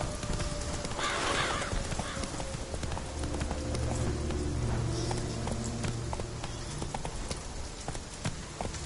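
Roach, Geralt's horse in The Witcher video game, gallops with steady, close clip-clop hoofbeats and a whinny, over a constant bed of game rain and ambient sound.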